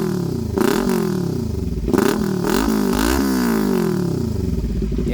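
Kawasaki Ninja 400 motorcycle fitted with an aftermarket exhaust, revved hard several times in quick succession, engine climbing and falling loud and close with a deep, beefy tone.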